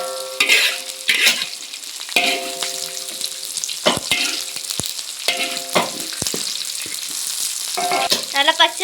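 Green chillies and curry leaves sautéing in a pan: steady loud sizzling broken by repeated scraping stirs of a spoon, close up, with no talk.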